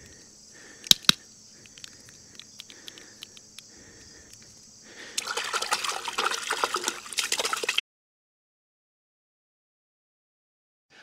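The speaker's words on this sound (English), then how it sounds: "Let's see if I can rinse it off." Water poured from a bucket splashes over a PL Turbo flashlight in a short, loud burst of a few seconds, after faint dripping and a couple of sharp clicks, then stops abruptly into silence.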